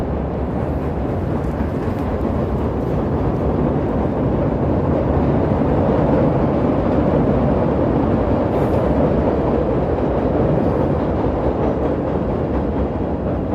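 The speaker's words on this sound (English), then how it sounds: "It's a Brown Line heading into Sedgwick stop." A Chicago CTA Brown Line elevated train heading into the Sedgwick stop, a loud continuous rumbling roar of wheels on elevated track holding steady throughout, with no voices.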